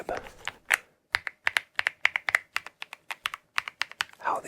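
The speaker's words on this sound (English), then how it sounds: "The only way to describe how these keys sound" Close mechanical keystrokes, deep and smooth, tapping in an uneven run of single presses with brief pauses, with a faint voice at the edges.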